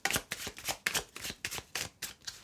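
Rhythmic overhand shuffling of playing cards: about eight soft, papery slaps in a steady pattern, close up and with no talking.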